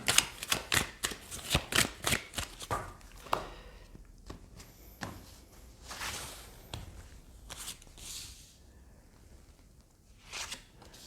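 Oracle cards are shuffled close by, starting with a quick run of crisp riffling flicks and then slower, softer card slides and taps spread across a quiet background.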